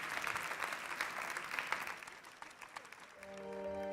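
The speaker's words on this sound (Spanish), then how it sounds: "Un fuerte aplauso para todas ellas" Audience applause at a women-in-science session of a business week event, quiet, moderately dense clapping that thins out toward the end as a few musical tones rise underneath.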